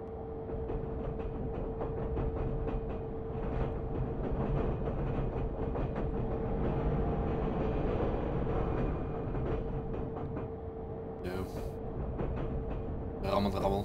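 An ICE2 high-speed train in Train Simulator 2019 rattling continuously along the track on the Augsburg to Munich line, a dense steady clatter with a constant hum and occasional louder knocks.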